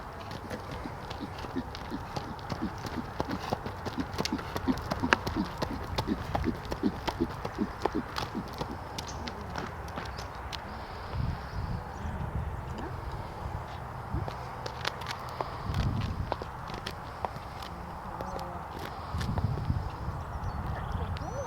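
Hooves of a horse named Tomba Shivers clip-clop on a road at a steady walking rhythm, heard from a distance and fairly faint, with some low rustle and bumps around them.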